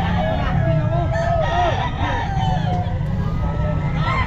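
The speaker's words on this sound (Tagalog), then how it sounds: "Malaking manok." A large rooster crows at a busy pet market, its rising calls repeating several times over steady crowd murmur and background voices.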